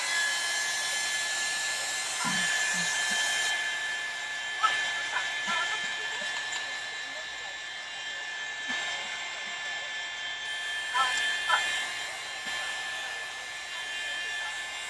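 Hair dryer blowing steadily on a journal cover, a constant close, loud whooshing hiss with a high whine, running the whole time with small bumps and handling clicks.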